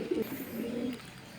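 Pigeons kept by a racing club give a soft, low, continuous coo at close range, a single rolling phrase that fades out, with no one speaking.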